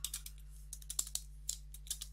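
A command being typed on a computer keyboard, a short run of quick, light key clicks in irregular bursts, close and fairly quiet over a steady low electrical hum.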